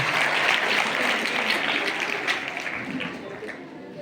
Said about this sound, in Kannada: ಅವರಿಗೂ ಚಪ್ಪಾಳೆ ತಟ್ಟಿ ಸ್ವಾಗತವನ್ನು ಕೋರುತ್ತೇನೆ